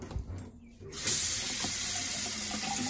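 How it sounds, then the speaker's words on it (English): A portable washing machine in a small apartment filling with water, a steady loud hiss of running water that starts abruptly after a second of quieter handling noise and continues evenly. "We're gonna start to fill the water now."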